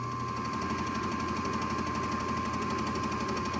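A Monarch metal lathe cutting the mill scale off a steel workpiece, giving a steady, dense grinding chatter with a constant high whine throughout, loud and continuous with no talking.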